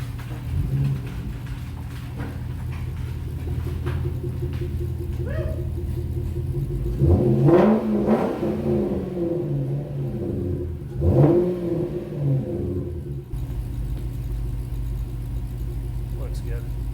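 A Toyota Celsior engine rumbles and revs as the car pulls into a garage, two louder revving swells standing out from a steady idle.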